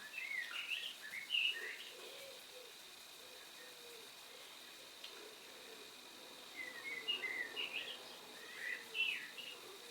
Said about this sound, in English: Blackbird singing outside, lovely to hear.